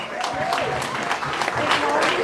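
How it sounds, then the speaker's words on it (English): A comedy audience applauds comedian Trevor Wallace at an 80th birthday gathering: a brief, dense wash of clapping and crowd noise, loud and close, with voices mixed in. "Can we have a round of applause, please, for me dad's favourite comedian"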